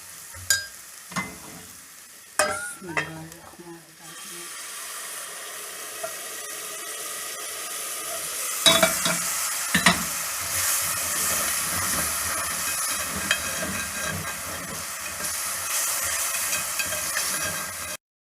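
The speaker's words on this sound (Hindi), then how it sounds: "तो अब मैं शीरा इसमें डालने लगी हूँ।" Sugar syrup poured into hot potato halwa in a pan sets off a loud, steady sizzle and steam hiss that lasts, following a few sharp scraping and stirring knocks at the start.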